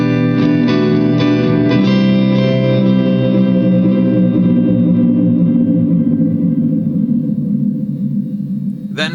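A strummed guitar through a Reverb Warhawk 390 digital delay pedal, set to a short delay without feedback, vibrato-like modulation and heavy reverb, rings out loud with a few strums at the start before a long shimmering decay.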